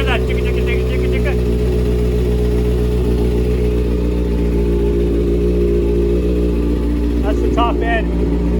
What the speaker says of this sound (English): ticking sound that's in the top end of this bike. Now, I know the exhaust is kind of loud, but can you hear that ticka ticka ticka ticka ticka?